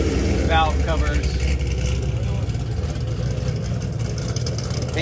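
An LS V8 engine fitted in a vintage car with GTO valve covers runs at a Cars and Coffee show, a steady low rumble close by while people talk over it throughout.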